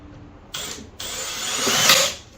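A power drill whirs in two bursts, the second building as the screw drives into softwood, then winding down; close and loud with no talking.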